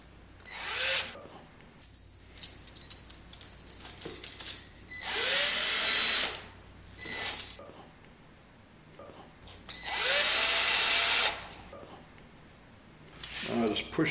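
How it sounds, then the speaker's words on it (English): A power drill bores holes in a wooden tambourine frame in bursts of whirring, one short burst followed by two longer ones a few seconds apart, with quiet gaps of handling noise between them. "I just use the drill to get that started on the other side."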